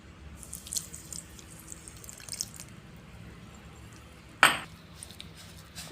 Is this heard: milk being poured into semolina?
yes